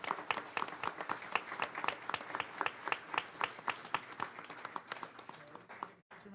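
A small group applauds students and their theater teacher at a school district board meeting, light individual claps in a quick uneven rhythm, fairly soft and close, ending abruptly.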